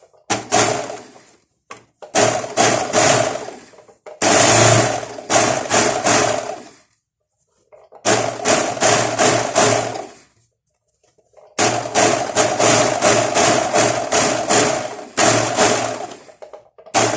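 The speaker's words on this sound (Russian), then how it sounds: "Сейчас оверложу средний шов. У меня стоит 3 нитки." Three-thread overlocker serging the middle seam of classic trousers, running in loud close bursts of rapid motor whirring separated by short silent pauses.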